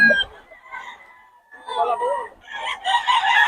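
Chickens and a rooster at a rainy chicken farm: a rooster crow rings out amid clucking birds, while someone talks over the flock.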